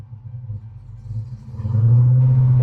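A Whipple-supercharged Chrysler 300 SRT revs up from a low rumbling idle as its supercharger belt slips, building into a loud, steady drone that holds near the end, with no talk.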